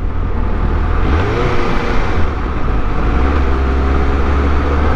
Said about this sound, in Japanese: エンジンの音いいっすね。